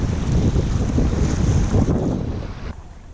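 Steady wash of river waves and wind buffeting around a stand-up paddleboard on an inflatable SUP river test, loud and close, fading slightly near the end, with no talking.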